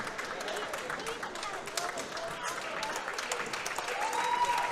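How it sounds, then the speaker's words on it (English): A crowd at a PIAA District 4 girls' 3A game between Bloomsburg and Loyalsock gives the winning team a standing ovation, with steady applause and cheering that swells slightly toward the end as a voice talks over it. "They get a standing ovation."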